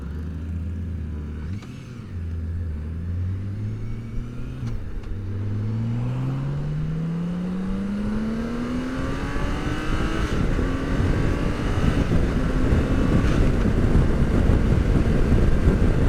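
A BMW K1600B touring motorcycle engine accelerates steadily under riding load, its smooth tone climbing in pitch and dipping at short gear changes before growing louder and rougher toward the end.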